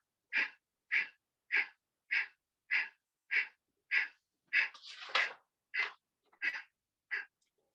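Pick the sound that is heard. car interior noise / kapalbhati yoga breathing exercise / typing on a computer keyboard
kapalbhati yoga breathing exercise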